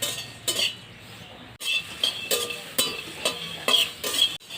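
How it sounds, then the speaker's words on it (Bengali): Whole black pepper, fennel, coriander and cumin seeds are dry-roasted in a dry wok for aloo chop, with a metal spatula scraping and stirring in repeated strokes and a faint crackle between them. "মশলাটা ভেজে নেব শুকনো কড়াইতে।"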